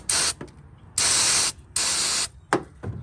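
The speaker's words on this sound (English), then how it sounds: "go ahead and give that a good spray" Cleaner sprayed from an aerosol can onto an oily electrical connector on a Trans Am, three long loud hissing bursts and a couple of short spurts, close to the microphone with quiet gaps between.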